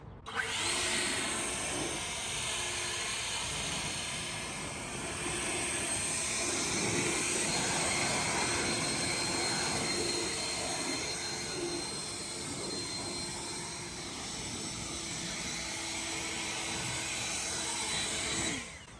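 An EGO cordless blower dries a 2022 C8 Corvette Z51 after a foam wash, its broad steady rushing roar running continuously and fairly loud up close with slight swells in level and no talk.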